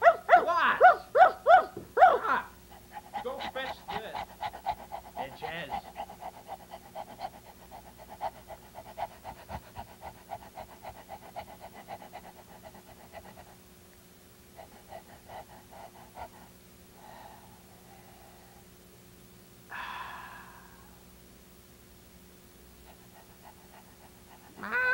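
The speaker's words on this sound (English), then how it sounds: "Mangy mutt." A dog pants in rapid, breathy bursts at close range, loudest early on and then fading, with a few scattered yelps and a steady low hum running underneath.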